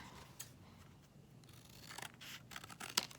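Scissors cut paper into tangram pieces with a few soft, quick snips, the sharpest one near the end, heard faintly and close against a quiet room background.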